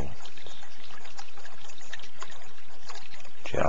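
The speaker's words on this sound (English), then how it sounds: "the sound of the trickling water" Water trickles and gurgles in a continuous stream, bright babbling close by and fairly loud, with a soft rush beneath, alone until a brief voice at the very end.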